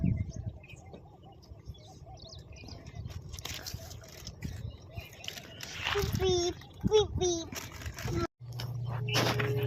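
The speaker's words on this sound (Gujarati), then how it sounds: "જો આ બાજુ નકરા મોર જ બોલે છે" Peacocks call in a green hill forest with scattered birdsong: several loud, ringing cries come in close succession partway through, at moderate distance. People talk nearby, and there is some handling noise.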